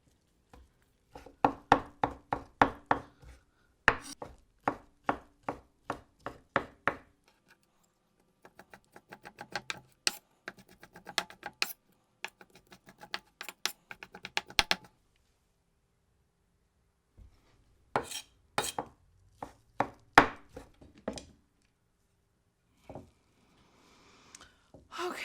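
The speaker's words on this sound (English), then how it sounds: "So basically you're just making thin strips of mushroom." A knife slices shiitake mushrooms into thin strips on a cutting board, giving fast, steady runs of crisp chopping taps in several bursts separated by brief pauses, close and clear with no talking.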